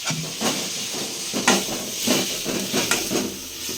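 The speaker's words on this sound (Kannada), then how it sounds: "ಈರುಳ್ಳಿ ಸ್ವಲ್ಪ ಕೆಂಪಾಗೋ ತನಕ ಹುರ್ಕೋಬೇಕು" Onions frying in a pan with cumin seeds, a steady close sizzle and hiss with periodic louder scraping stir strokes, no talking.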